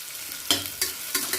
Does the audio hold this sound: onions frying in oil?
yes